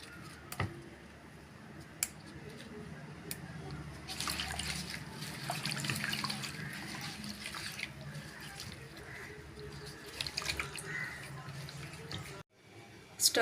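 Running tap water splashes steadily into a sink while guava leaves are rinsed under it, with occasional clicks and knocks nearby.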